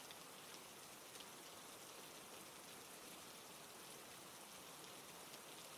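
Rain falls steadily as a soft, even hiss of dense droplets, continuous and faint, with no voices over it.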